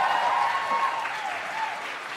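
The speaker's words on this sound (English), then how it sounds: "I want you to give my band a round of applause." Audience applause for a live band, steady dense clapping throughout, loud and close, with a few faint voices mixed in the crowd.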